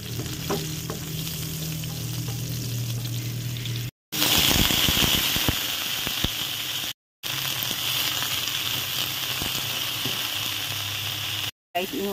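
String beans sautéing in a hot pan, a loud steady sizzle and crackle with stirring and scraping, broken by brief silent cuts.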